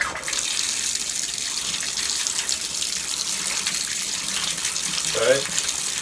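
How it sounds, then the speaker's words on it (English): Paintbrush rinsed under a flowing cold tap to work house paint out of the bristles, a steady rushing of water running throughout with a brief swirl of splashing near the end. "you're just going to try and get as much of this paint out of the brush as possible by moving it around under the flowing water"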